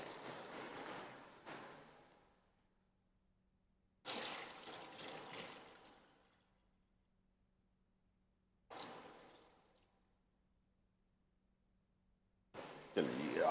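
Water from a cooking pot of noodles for teriyaki beef noodles is poured off and drained in a few separate splashing bursts with silent pauses between, the last one loudest and closest.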